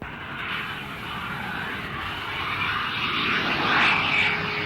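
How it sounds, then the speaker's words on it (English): An RAF Phantom jet at Stanley in the Falkland Islands gives a steady, loud engine roar that swells slightly as it goes on, with no voices. "RAF Phantoms are now stationed at Stanley."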